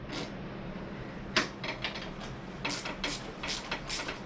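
A wrench runs in and torques a shock bolt on a 2016 Harley-Davidson Street Glide FLHXS fitted with air ride shocks, giving a series of close, crisp ratcheting clicks in short bursts with a louder snap partway through.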